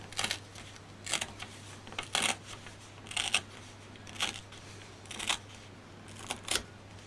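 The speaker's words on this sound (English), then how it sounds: "So if you pull apart, the tear will want to go along the crease." Sheets of paper being pulled apart along a folded crease while making an origami plane, heard as about eight short, crisp rips spaced roughly evenly, quiet and close with a steady low hum beneath.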